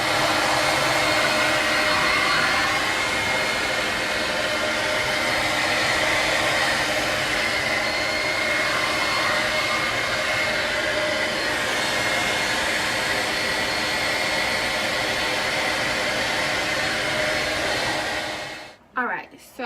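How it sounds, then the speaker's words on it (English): A hair dryer fitted with a diffuser, set on low, blows in a steady, even whoosh that runs loud and close without a break for nearly the whole stretch, then cuts off abruptly near the end. "If you have a blow dryer or a dryer, I'm just going to diffuse it on low and let it do its thing"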